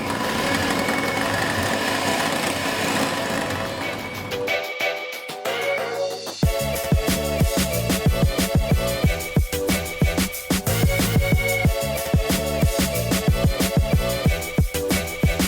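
An electric hand beater whirs steadily as it whips soy milk and oil into a thick eggless emulsion, starting muffled and low before settling into a loud, continuous buzzing drone with a slightly rattling, pulsing edge.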